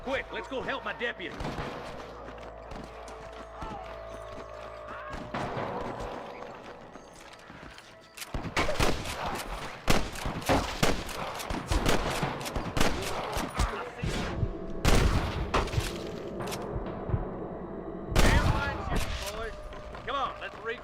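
Bursts of gunfire in the video game Red Dead Redemption crack in rapid volleys, loud and close, with a voice talking between shots.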